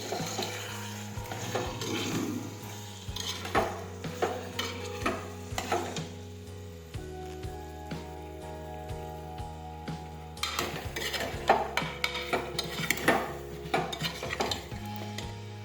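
A spoon scrapes and clinks in a pressure cooker while shelled green peas are mixed with brinjal, potato and tomato over a soft sizzle, the strokes coming in an uneven, repeated rhythm close by without speech.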